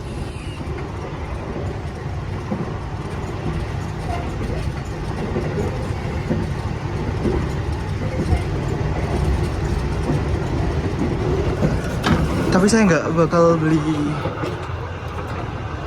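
Steady rumble and rhythmic rail clatter from inside a moving Indonesian passenger train car, the KA Gumarang, continuous throughout with a nearby voice talking over it and a brief squealing burst near the end.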